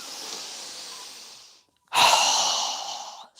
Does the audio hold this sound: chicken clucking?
no